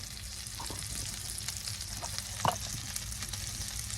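A mac and cheese bacon burger wrap, seam side down, fries in a skillet with a soft, steady sizzle and a few light clicks and one brief louder knock, heard close and alone without any talk.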